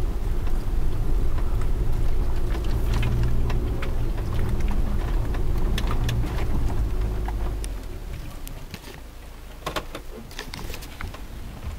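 An SUV climbs a mountain road in Idaho, its interior rumble and tire noise loud and steady before easing off, with rain-like patter and scattered clicks and taps over the drive.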